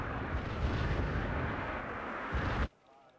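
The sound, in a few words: AS-90 artillery barrage in Wargame: Red Dragon video game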